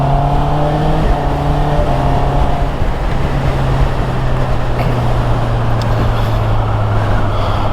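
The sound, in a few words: Honda CB650 motorcycle with E-Clutch riding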